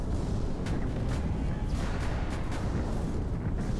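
Continuous heavy rumbling barrage of explosions from aerial strafing in the VR shooter Iron Rebellion, dense and loud throughout with faint sharper bursts scattered over the roar.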